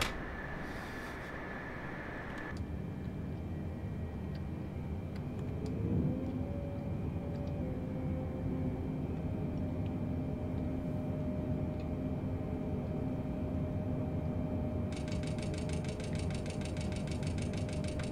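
Boeing 747 inside a flight simulator game, with a steady, faint engine drone and hum behind a few soft clicks, while a tone rises briefly then holds and a buzzing chime sounds near the end.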